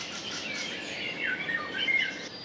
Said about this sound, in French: Ces chants d'oiseaux ont été enregistrés sur le site mémorial du camp d'Auschwitz-Birkenau, là où Simone Veil a été déportée à 16 ans